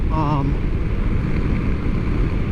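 Steady, loud wind roars against a rider on a Yamaha MT-09 SP at highway speed. A voice speaks briefly at the start over the rush.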